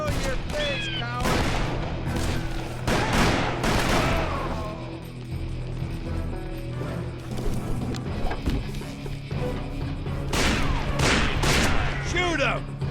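Gunfire in the Call of Juarez: Bound in Blood video game: repeated loud bursts of shots over the whole stretch, heaviest early and again near the end, mixed with shouting voices.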